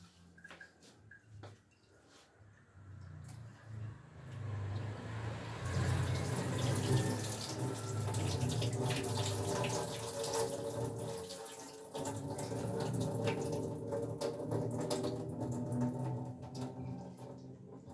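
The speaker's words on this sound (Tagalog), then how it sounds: "una hugasan muna bago ilaga kasi para malinis ang inumin" Tap water runs steadily into a sink while garlic skins are rinsed, softer at first and then a loud, continuous splashing rush that carries on to the end.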